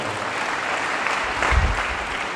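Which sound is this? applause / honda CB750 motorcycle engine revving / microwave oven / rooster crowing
applause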